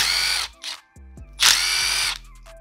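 A handheld power drill removes Boysen reeds from a 33-year-old motorcycle engine during a teardown, firing in two loud, close bursts of high whine with brief gaps and a softer blip between them.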